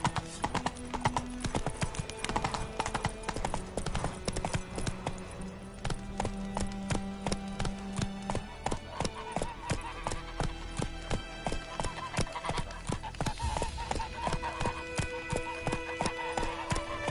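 Roach the horse gallops in The Witcher 3 with a continuous, fast clip-clop of hooves, close and steady, joined by a brief whinny and scattered game sounds, with no voices over it.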